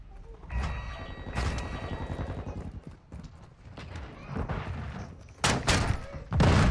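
Bursts of gunfire from the video game Modern Warfare 2, several sharp loud volleys spread through the stretch and clustered near the end, with a voice talking over parts of it.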